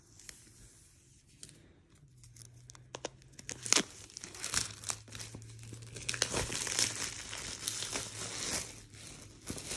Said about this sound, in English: Now we got this little pull tab right here.